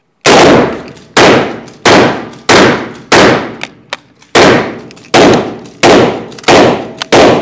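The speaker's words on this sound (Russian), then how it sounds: "я успел сделать один выстрел, второй патрон дал осечку" A Winchester lever-action rifle fires about ten loud, close shots in quick succession, each a sharp crack with a ringing decay, with a brief pause near the middle.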